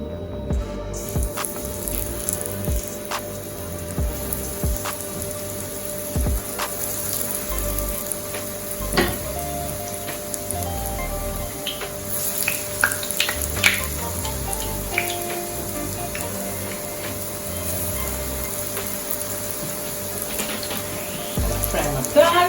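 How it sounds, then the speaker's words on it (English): Plantains frying in a pan of oil, a continuous crackling sizzle with scattered pops, with a voice talking intermittently over it. "Fry my plantains."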